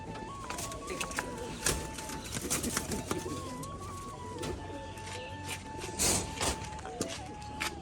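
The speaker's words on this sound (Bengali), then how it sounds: "এটা কিন্তু একটা নর পায়রা" Close pigeons, including a male with feathered feet, coo repeatedly in soft, throaty rolls, layered with other bird chirps and a faint high whistle running underneath.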